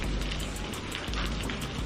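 Rain falling during a rainy-day scene in a Hindi cartoon, a soft, steady hiss of drops that continues evenly throughout, with no voices.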